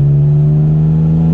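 Toyota Tacoma TRD Offroad V6 pickup with an aftermarket exhaust pulling up to road speed, a loud, steady low engine drone holding a strong tone throughout with no voices.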